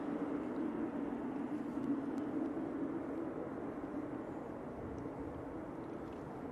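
A Lufthansa airliner departs Manchester Airport bound for Munich, a steady broad engine roar held at an even, moderately distant level throughout with no talk over it.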